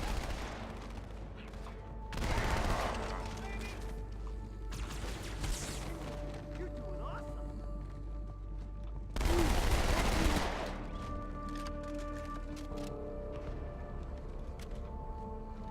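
Bursts of dual-wielded weapon fire in Halo 2, two louder broadband volleys standing out over a steady bed of game sounds and ambience.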